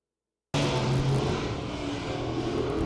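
Crate Sportsman dirt track race cars roar into a heat race, the pack's engine noise bursting in suddenly and staying loud and continuous, a mix of distant and nearer motors.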